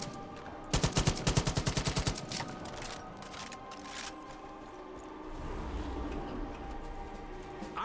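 A loud, rapid burst of automatic gunfire from the video game Cyberpunk 2077: Phantom Liberty, a dozen sharp shots in quick succession followed by scattered impacts and a low rumbling game ambience.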